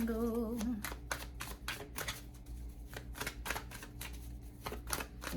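Tarot cards are shuffled close and quietly, with a rapid string of soft flicking riffles and clicks over a steady low background hum.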